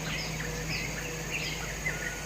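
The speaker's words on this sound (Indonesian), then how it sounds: "Ada burung." Small birds chirp near a house, with short repeated tweets scattered over a steady low background hum.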